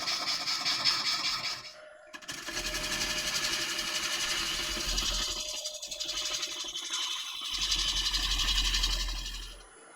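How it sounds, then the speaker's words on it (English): A wood lathe turns a large walnut log while a tool takes the first cuts on its wobbly outside, making a steady buzzing whir with scraping chatter that briefly drops out and resumes. "time to take the initial few cuts, get rid of some of the wobble on the outside"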